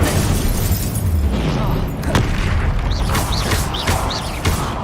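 Incendio fire spell blasts in Hogwarts Legacy, a loud continuous roaring burst with booming crackle and several sharp impacts layered over dense game sound.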